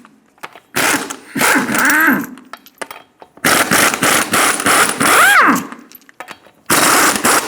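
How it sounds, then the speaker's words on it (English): A 21mm socket on an impact wrench removes the six lug nuts from a 2000-2006 Toyota Tundra front wheel, heard as loud, close bursts of rapid rattling with rising whine between short pauses. "remove the 6 lug nuts"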